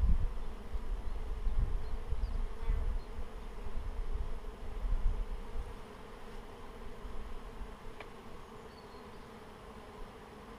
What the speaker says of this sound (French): il y a quand même beaucoup d'abeilles dans la hausse, ça travaille énormément